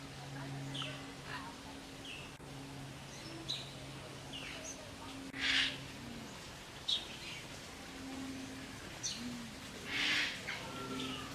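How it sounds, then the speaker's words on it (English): Birds calling from inside a rainforest enclosure: scattered chirps and short whistled calls over low, cooing tones, fairly faint and intermittent against a soft ambient background with muffled voices. "Well, there's birds in here. I can hear them."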